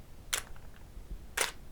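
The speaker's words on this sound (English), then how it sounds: "If I go to 1 second on the camera, it's going to sound like this." A digital camera shutter fires at a 1-second exposure: a sharp open click, a one-second pause, then a matching close click, both crisp and close in a quiet room.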